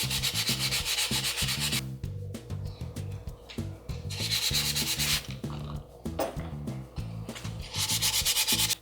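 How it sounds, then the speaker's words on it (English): Wet sanding carbon fiber by hand with 120-grit sandpaper, a steady rhythmic back-and-forth rasping scrub, close and loud, continuing without pause and with no talking. "And we're ready to go ahead and start sanding"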